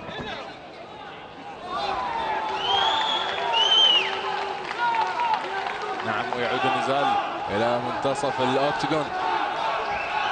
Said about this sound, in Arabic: والتشجيع وصيحات الجماهير متواجدة أيضا